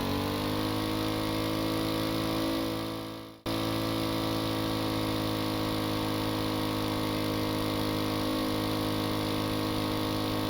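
Modular engine of an ultralight plane in Stormworks, running under computer PID control of its RPM: a steady droning hum with a brief dip and cut near the middle before resuming at an even pitch, heard alone with no talking.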